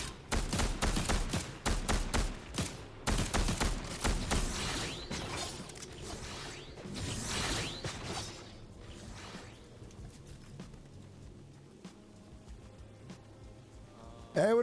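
Rapid bursts of video game gunfire crackle loudly through the opening seconds, dense and overlapping, then thin into sparser shots and mechanical clatter under a busy game soundscape.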